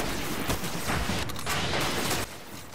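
Rapid gunfire from the PS3 shooter Destiny during a cooperative mission on Ishtar, dense bursts of shots and mechanical clatter filling the whole stretch at steady loudness, with no voices over it.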